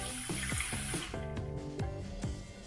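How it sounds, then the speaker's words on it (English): Tap water pours steadily into the lower chamber of a Brikka stovetop coffee pot, with close splashing and a few drip-like plinks as the stream shifts. "Now we'll fill it with water up to there."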